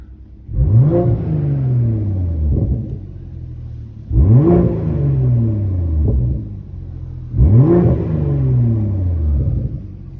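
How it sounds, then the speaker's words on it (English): BMW G42 M240i with a muffler delete, parked in neutral, gives three loud revs from idle; each climbs sharply then falls back to a steady rumbling idle, evenly spaced and close by with no talking. "I'm gonna put it in neutral and give you a little rev."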